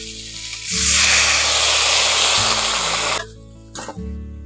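Water poured into a pan of half-fried onions bursts into a loud, close sizzle that holds steady for about three seconds before dropping off, with a brief renewed hiss near the end; no talk.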